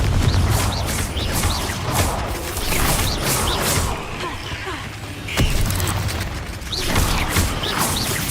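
Confringo explosive spell going off in Hogwarts Legacy, several sharp booming blasts and whooshes in a busy battle mix, recurring every second or so amid game noise.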